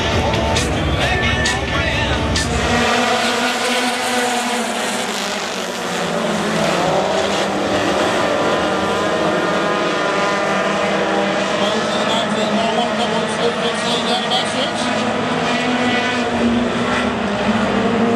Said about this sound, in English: Jordan Starkey up to second. Mosley gonna lead lap number 1.